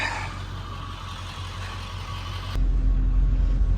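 A pickup truck with a 7.3 engine is pulled back a short way in reverse, giving a steady low engine rumble that deepens and grows louder partway through, with no talking.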